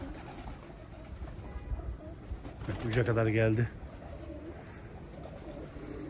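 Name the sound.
tumbler pigeons landing, cooing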